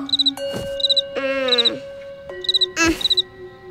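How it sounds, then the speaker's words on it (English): A cartoon cricket chirps in short, repeated bursts at a bedside in a children's animated story, bright and close, with brief cartoon effects and music stabs between the chirp groups. "It's impossible to fall asleep with that cricket."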